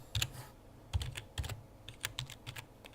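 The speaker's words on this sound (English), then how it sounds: "so I'm typing one-handed at the moment" Keys clattering on a computer keyboard pressed one-handed, an uneven run of single and clustered taps, close and fairly quiet, with no talking.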